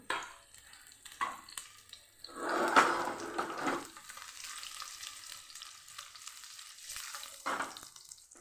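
Garlic cloves and red chillies frying in hot oil for a Kathiyawadi tomato chutney, a soft close sizzle with intermittent stirring scrapes and a louder burst of spitting in the middle.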